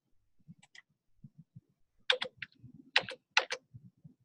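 Keys clack on a computer keyboard in short bursts of typing, fairly close and crisp, with a quiet pause between clusters and no talk.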